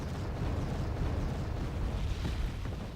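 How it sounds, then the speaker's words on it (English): Artillery barrage in the Wargame Red Dragon video game, heard as a steady, dense rumble of distant explosions that blur into one continuous roar with no distinct individual booms. "They fire a barrage at our artillery here."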